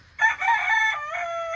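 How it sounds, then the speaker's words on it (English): A rooster crows near a garden, one drawn-out, loud cock-a-doodle-doo call with a rising then falling tone, clear and close against a quiet background. "The chickens love being right next to the garden."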